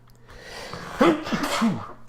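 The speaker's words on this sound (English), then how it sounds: "And I'm sneezing." One close, sharp sneeze from a man, a quick inhale then an abrupt burst, with no speech around it.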